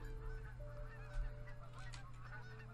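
Geese honking in theHunter: Call of the Wild hunting game at Hirschfelden, a flock's repeated nasal honks at middle distance over a steady low ambient hum.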